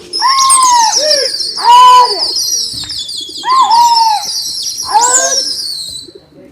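About 150 pigeons in a loft coo and call repeatedly in bursts, several birds close by, with squealing, whistly tones and no talking.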